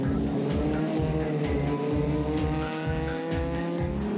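Race cars battle for position on a track, a loud continuous engine roar with rhythmic pulsing and tire noise, no voices.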